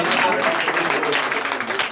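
A church congregation claps and cheers in a loud, continuous burst during morning prayer, with voices mixed into the applause.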